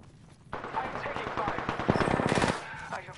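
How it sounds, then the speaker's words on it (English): Rapid automatic gunfire from Apex Legends rattles in a dense burst lasting a couple of seconds, loud and close, with faint in-game voices underneath. "I'm taking fire."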